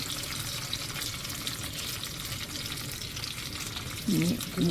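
Dried red chillies and peanuts frying in hot oil for pulihora, a steady close sizzle running throughout with a couple of louder bursts near the end.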